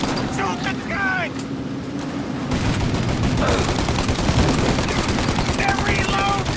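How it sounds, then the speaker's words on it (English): Rapid gunfire bursts from a car shootout in the Mafia: Definitive Edition video game, loud and continuous, with shouting voices over and between the shots. "Shoot now while we got the chance! Now! Shoot the gun!"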